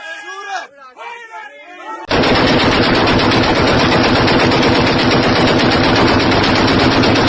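Heavy machine gun fire during a military strike at the Pakistan-Afghanistan border: after about two seconds of a voice, a loud, dense, unbroken stream of rapid shots starts and runs to the end.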